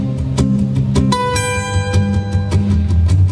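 A guitar plays a short phrase of ringing high notes over a strummed, rhythmic accompaniment, bright and close.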